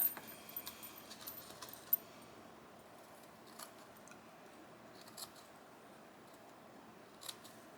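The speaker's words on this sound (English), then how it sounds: "scissors." Scissors snip through a paper doily for journal pages, a handful of quick crisp cuts clustered at the start, then sparse isolated snips separated by quiet pauses.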